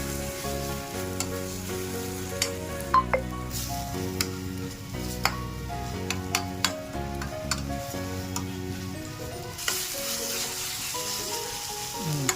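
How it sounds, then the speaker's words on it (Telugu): Onion, masala and chilli fry in a pan with a steady close sizzle, broken by scattered clicks and scrapes of stirring, playing along with background music. "అది మనం పచ్చి వాసన పోయేంత వరకు ఫ్రై వేసుకోవాలి."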